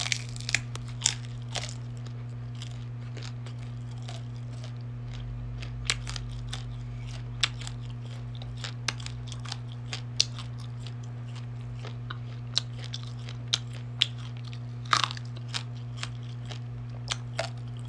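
Grilled quail being bitten and chewed up close, with sharp crunchy bites at irregular intervals over a constant low electrical hum, quiet and free of talk.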